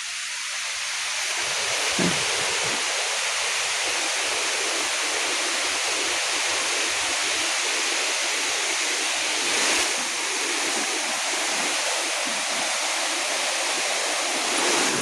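River water rushing in a broad, constant roar, loud and unbroken, with a faint gusting wind mixed in and no voices.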